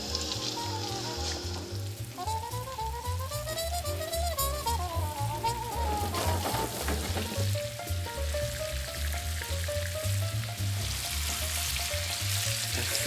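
Floured fish sizzles steadily as it fries in butter in a pan, a constant crackling hiss that continues under soft background music.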